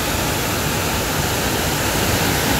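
Steady broadband rush of water pouring down into the 9/11 memorial pool at Ground Zero in New York, a constant loud wash with no pauses and no talking.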